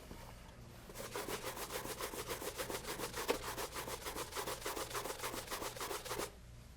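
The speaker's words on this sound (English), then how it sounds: "So I'm going to polish the second one" Brisk back-and-forth brushing of a leather shoe with a dense yak hair brush during a shine, a steady rapid rhythm of close strokes, alone and without talk.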